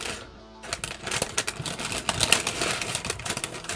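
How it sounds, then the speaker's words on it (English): Paper being handled at an art desk during animation prep, a dense run of crisp crinkles and rustles close to the microphone, loud and continuous with no talk. "I apologize for all the paper sounds."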